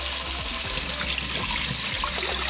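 Tap water runs steadily into a sink while raw chicken is rinsed for Peruvian tallarines rojos, a continuous close gushing splash with faint knocks and handling sounds, no talk.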